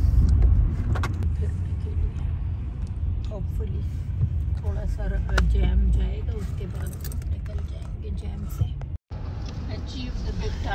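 A car rolls through traffic in Melbourne with a steady low engine and road rumble, while people chat inside the cabin; a brief cut of silence interrupts the sound near the end.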